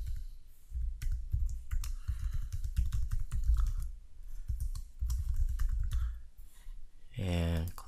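Someone types a web address on a computer keyboard, a rapid close run of clicking keystrokes in bursts with short pauses, ending with a brief tonal sound.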